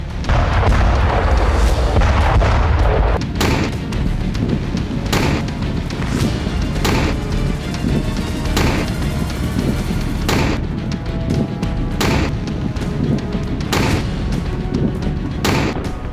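Explosions from drone attacks amid the Russia–Ukraine war: a heavy, continuous rumble punctuated by repeated loud booms and blasts at irregular intervals, with no voices.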